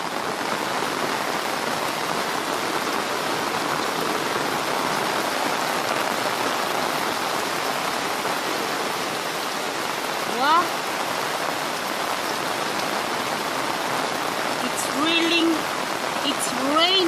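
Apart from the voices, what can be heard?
heavy rain falling in a Kenyan village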